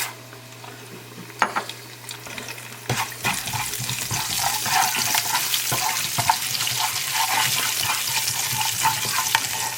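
Cumin, mustard and fenugreek seeds fry in oil in a pan and are stirred, a rushing sizzle that starts quiet and swells loud and dense after a sharp clatter, close, with no talking.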